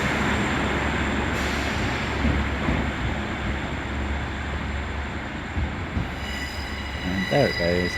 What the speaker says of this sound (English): And there it goes over the level crossing